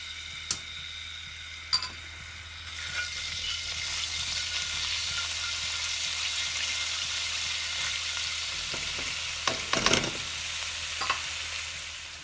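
Ginger garlic paste frying in hot oil for egg fried rice, a steady loud sizzle that swells after a few seconds, with occasional clinks and stirring taps from a utensil in the pan.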